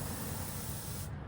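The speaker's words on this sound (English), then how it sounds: "it blows air and it causes the paint to fly into the air" A steady, loud hiss of an airbrush spraying, continuous and close, cutting off abruptly near the end.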